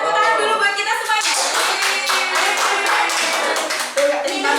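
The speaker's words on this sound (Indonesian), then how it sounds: "tepuk tangan dulu buat kita semuanya" Group of teachers at a school workshop session clapping their hands together, a loud, dense burst of applause with cheering voices mixed in that carries on steadily before tapering off.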